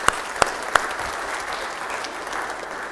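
Applause from a church congregation at First Reformed Church, a steady even wash of clapping filling the room, with a few sharper isolated claps standing out near the start.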